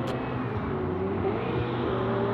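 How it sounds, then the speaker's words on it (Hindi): A sports car engine, a Ferrari or Audi R8 at a drag race, drones and revs steadily with a rising whine, loud and close, with no talking. "गाड़ी की आवाज़ सुनो।"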